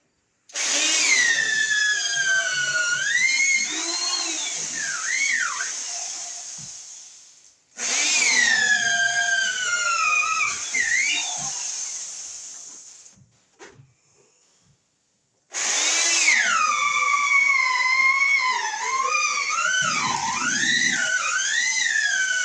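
A power drill bores through wooden studs on a new-construction wiring job, running in three long, loud bursts whose whine rises and bogs down as the bit cuts, with short pauses between runs.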